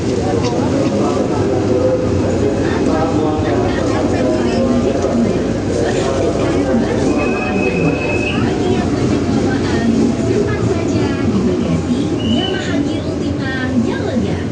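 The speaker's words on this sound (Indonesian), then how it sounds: "Di jalur 10 masuklah KRL dari stasiun Bogor menuju stasiun Jakarta Kota." A KRL commuter train from Bogor pulls into platform 10 at Jatinegara station, its steady rumble filling the scene while a station announcement voice speaks over it.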